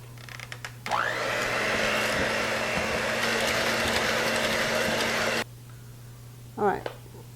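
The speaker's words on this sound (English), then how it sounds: "I'm just going to take an electric hand mixer. I have a whisk attachment. I'm going to blend this all together until we get a pudding consistency." An electric hand mixer fitted with a whisk attachment whirs steadily while blending pudding for a banana pudding poke cake, a loud continuous motor drone for several seconds that stops abruptly, followed by quiet and a brief voice.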